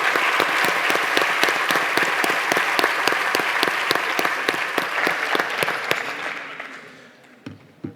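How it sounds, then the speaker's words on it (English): An audience at a warehouse automation conference plenary applauds its panel in a dense, loud burst that holds steady for about six seconds, then thins out and fades, with a few last claps at the end. "A big round of applause, please,"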